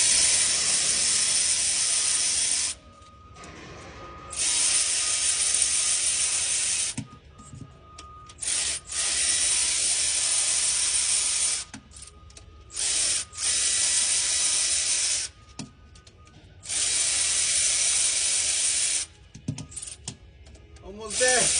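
A ratchet wrench tightens bolts on a boom lift during a rear main seal repair, making loud bursts of rapid, rasping clicks that stop and start in several long runs with short pauses, close by.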